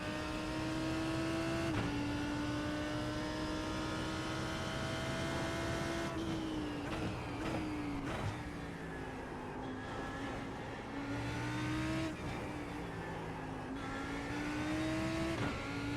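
Lamborghini GT3 race car lapping Imola in the iRacing sim, engine holding a steady loud drone that rises and falls with throttle and downshifts, brief scrubbing sounds at the corners, no voices.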